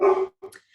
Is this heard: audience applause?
no